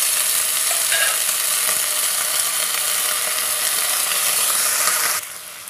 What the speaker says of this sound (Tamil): இப்போ நான் அறுத்து வச்சுருக்கிற கத்திரிக்காயும் போட்டுக்கலாங்க. கூடவே இந்த தக்காளியும் போட்டுக்கலாம்.